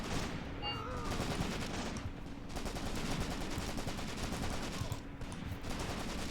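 Sustained wartime gunfire and rifle fusillade from a WWII trench battle in the Graviteam Tactics: Shilovo 1942 game, with dense continuous volleys and rattling shots, near and loud, throughout the scene.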